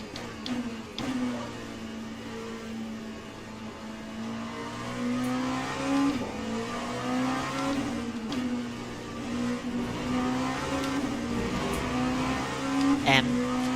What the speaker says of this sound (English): Passing this McLaren.